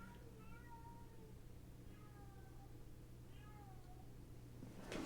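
Indoor house cat meowing three times in drawn-out, rising-and-falling calls at moderate distance over a steady low hum, with a short clatter at the end.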